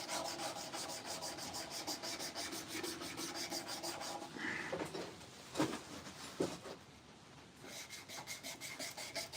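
Rapid, rhythmic rasping of sandpaper rubbing on a wooden handsaw handle, continuing steadily with a couple of brief knocks and pauses near the end.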